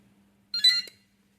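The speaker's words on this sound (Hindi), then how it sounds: "यहाँ पर लाइट स्कैन होती है, बजर भी आता है इसके अंदर" A 1D barcode scanner for a laptop gives one short, bright electronic beep from its buzzer while scanning, close and clear against near silence with a faint steady hum.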